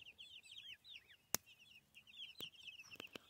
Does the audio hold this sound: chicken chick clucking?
yes